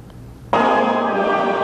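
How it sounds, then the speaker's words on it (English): Church bells peal at a royal coronation in Tonga. A loud, sustained ringing starts abruptly and fills the rest of the clip, with no talk. "Amid pealing bells and booming cannons, King George Tupou V became Tonga's new monarch."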